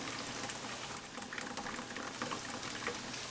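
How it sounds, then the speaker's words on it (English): Hot water and cooked manicotti pasta pouring out into a kitchen sink, a steady, dense rushing splash that stays constant and fairly loud throughout, with no talking. "So I'm just going to drain these out in the sink, and then I'm going to put some cold water in them"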